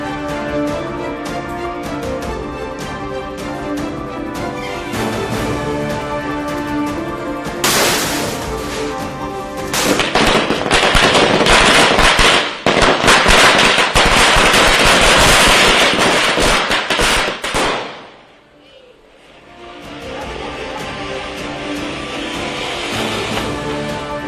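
Diwali firecrackers burst in dense, rapid crackling volleys, loud throughout, swelling into a heavy barrage midway before a brief lull and a final round of crackles.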